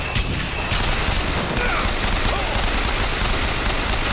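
Rapid gunfire and battle noise from the first-person shooter Bioshock Infinite, fought around Shantytown's police impound: a loud, dense, continuous barrage of overlapping shots and impacts lasting the whole stretch, with no speech over it.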